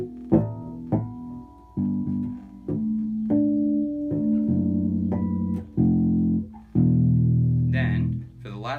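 Fretted electric bass harmonics ring out as bell-like chimed tones, played one after another with overlapping sustain, clear and close, with no talking.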